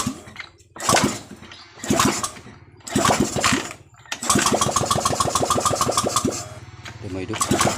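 A flood-damaged motorcycle engine is kick-started: three short cranking bursts, then the engine catches and runs on in a rough, rapid, pulsing idle, close and fairly loud.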